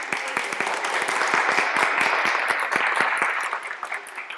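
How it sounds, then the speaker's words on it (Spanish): An audience at a Sunday school teachers' training session claps steadily, with distinct individual claps audible throughout and the applause thinning toward the end. "Claudia Fanador y María Victoria Pérez, a quienes les pueden dar un gigante aplauso"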